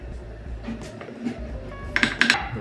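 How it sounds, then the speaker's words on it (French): Flour and salt being mixed in a large bowl, with a spoon clinking and scraping against the sides in a few quick, sharp knocks, close by and clustered toward the end. "je vais mettre ma farine, le sel et on mélange"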